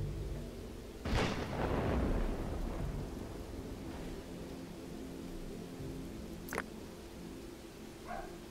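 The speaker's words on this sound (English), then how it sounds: "A storm is brewing." A thunderstorm in the prehistoric city-building game Dawn of Man rumbles with one rolling thunderclap, a sharper crack a few seconds later, and steady rain hiss underneath, with no talk.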